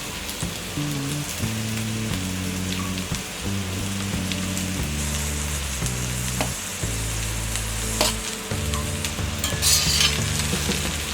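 Cooked rice for carrot rice is stirred and fried in a pan, producing a steady close sizzle with rhythmic scraping and tossing sounds under continuous background music.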